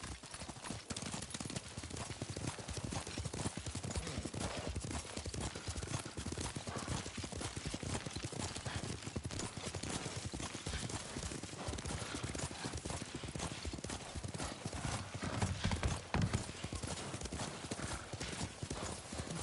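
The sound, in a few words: horse hooves while riding in video game Ghost of Tsushima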